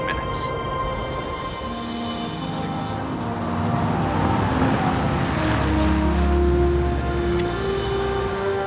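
An airliner in flight shortly before landing in Denver: a steady, enveloping cabin engine drone with sustained humming tones that swells slightly midway and holds constant throughout.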